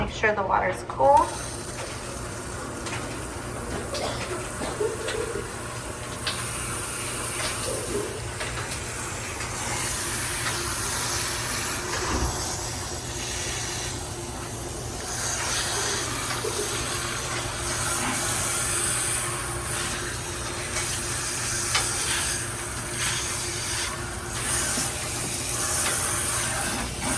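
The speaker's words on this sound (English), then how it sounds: "take your client to the shampoo bowl and rinse with cool water" Cool water runs steadily from a salon shampoo bowl sprayer, rinsing a client's hair in a continuous hiss throughout, with faint voices and handling in the background.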